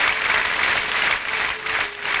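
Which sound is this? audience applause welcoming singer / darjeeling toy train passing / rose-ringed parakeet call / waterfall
audience applause welcoming singer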